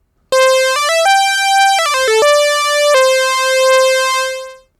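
A DSI Pro 2 synthesizer plays a bright lead patch in a high range, with sustained notes that step between pitches and swell with a slow, evolving phaser sweep. It is loud and clear, with no voices, and it fades at the end.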